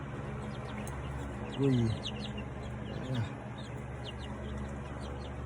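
Chicks recovering from coccidiosis give two short cheeping calls close by over a low steady hum, and a person speaks briefly.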